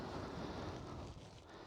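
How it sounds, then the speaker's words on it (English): Strong wind buffeting a microphone while riding a Ducati Multistrada V4 Rally on a scenic road in Halland, a loud continuous roar with no talk. "except that it's very windy"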